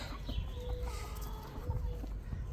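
A chicken clucking softly in short bursts over steady outdoor background noise, fairly near.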